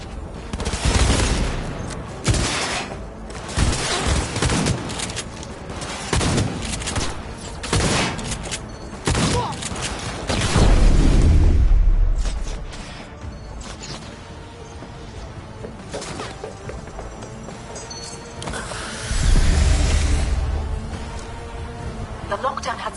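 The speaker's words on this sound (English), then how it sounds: "I'm taking fire!" Rapid gunfire and heavy explosions from a firefight in the video game Cyberpunk 2077, loud and dense throughout, with bursts of shots, deep booming blasts and crashing impacts layered over background combat chatter.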